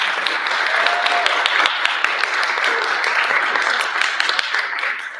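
Applause from a gala audience on a dance floor at an awards event, a steady wash of clapping with a few sharper individual claps over about five seconds, and faint voices mixed in.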